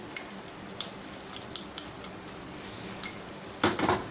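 Masala for beef kofta curry frying in a pan, a soft continuous sizzle with a few light stirring ticks and a brief louder scrape near the end.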